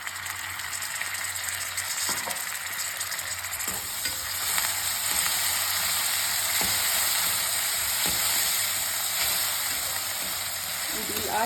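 Tomato pieces frying in a hot pan for a puffed rice lemon dish, a steady broadband sizzle across the whole stretch with occasional stirring scrapes, close and fairly loud, no voices.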